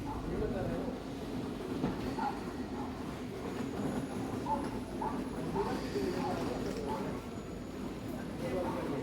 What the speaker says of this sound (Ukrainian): О, це наш потяг прибуває.